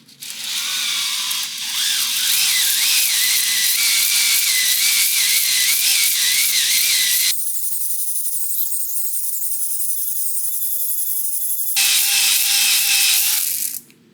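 Used engine cylinder being honed aggressively with a power tool, a loud continuous high whine and grinding that drops out briefly, then resumes before stopping.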